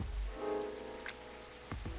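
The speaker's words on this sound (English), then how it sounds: "Oh, look, it's still raining." Steady rain falls in the Coffee Talk video game, a soft continuous patter with a few brighter drips and two low thuds near the end, no voices.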